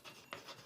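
A brief stroke of writing on a classroom board, soft scratchy marks with one sharper stroke in the middle, faint and close.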